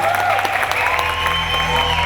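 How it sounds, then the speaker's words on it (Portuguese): Audience applause fills a Brazilian festival talk hall, steady and close, a dense crowd clapping continuously throughout with a faint tone underneath. "Só uma de palmas pra Edgar, gente."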